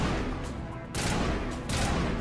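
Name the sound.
sniper rifle shots in Mass Effect video game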